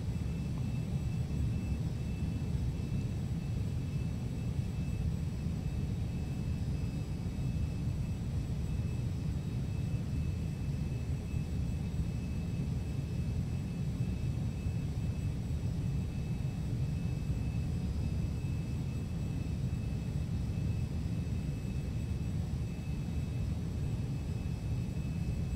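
Steady jet engine drone inside the cabin of a Carenado 525A Citation business jet in the Prepar3D flight simulator, descending through clouds on approach; a continuous low rumble with faint high whine, unchanging throughout, with no talk.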